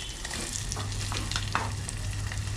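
Food being stirred in a hot pan while cooking an Indian thali dish, a steady frying sizzle under scraping and stirring strokes, close and continuous with no talk.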